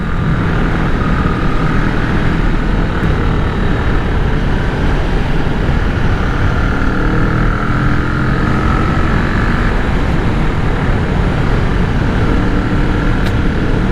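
Kawasaki Vulcan 650 motorcycle riding on a bumpy road: a loud, continuous engine drone mixed with heavy wind rush and road rumble, steady throughout with no talking.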